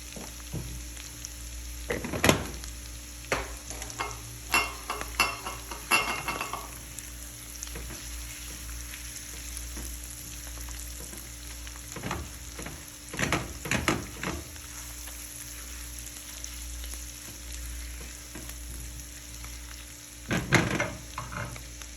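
Tomatoes, onion and spices frying in a pan, a low steady sizzle broken by intermittent stirring scrapes and clatters of a utensil over about twenty seconds.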